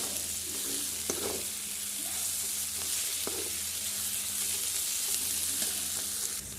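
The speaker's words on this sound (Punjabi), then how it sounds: "ਲਓ ਜੀ ਇੱਥੇ ਆਪਣਾ ਮਸਾਲਾ ਜਿਹੜਾ ਭੁੱਜ ਗਿਆ" Masala spices roasting in a pan, a continuous close sizzle and fry hiss with occasional stirring scrapes and light taps throughout.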